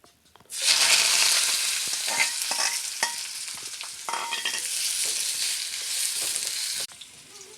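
Chopped onion, ginger, shallot and green chili hit hot oil in a pan for a beef roast, bursting into loud, steady sizzling with scraping stirs and clinks, then cutting off near the end.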